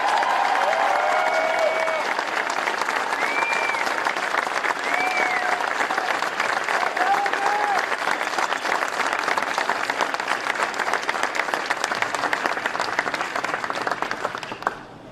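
An audience applauds as Vice President Mike Pence is welcomed at Caterpillar Inc. headquarters, sustained dense clapping from a large crowd with a few whoops and cheers, steady throughout before trailing off at the end.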